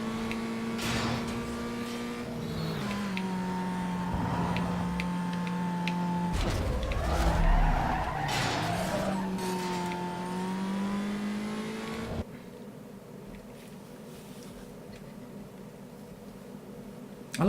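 A BMW M3 in Need for Speed: Most Wanted drones with a steady engine note that rises and falls through shifts, a rougher skid-like burst in the middle, then drops to a quieter hum.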